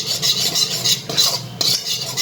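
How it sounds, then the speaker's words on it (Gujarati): Flour roasting in butter in a kadai for pink sauce pasta, stirred with a spoon in repeated quick rasping scrapes against the metal, close and rhythmic, without any talk. "હવે આપણે પહેલાં એને શેકી લઈશું"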